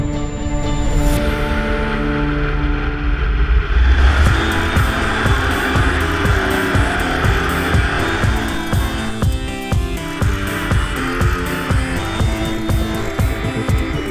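An 800-plus horsepower off-road race truck in a LOORRS short-course session drives with a loud, sustained engine roar, the revs rising and falling through gear changes, with tire noise and strong low rumble throughout.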